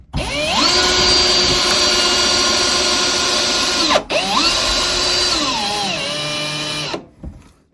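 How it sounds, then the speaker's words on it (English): A power drill drives a screw through a steel washer into a cabin wall, a loud continuous whine that ramps up, holds steady, dips briefly around the midpoint, resumes, then winds down and stops. "you just put the screw through the center of the steel washer and screw it into the wall"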